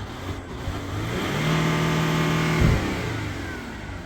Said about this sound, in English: G6 diesels love a big rev.